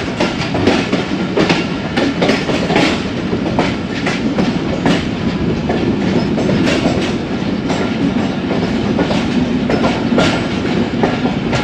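Ravi Express passenger train pulling into Shahdara Bagh Junction railway station, with a steady loud rumble of railcars and a rhythmic clickety-clack of wheels over rail joints throughout, close and continuous.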